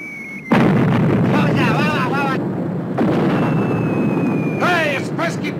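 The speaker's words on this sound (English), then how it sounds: "Hey, Uncle Woody, I didn't know you were having fireworks today." Loud explosions like heavy artillery or fireworks boom and rumble continuously in a comedy scene, with a whistling shell before the first blast and more descending whistles between booms, while shouting voices break through.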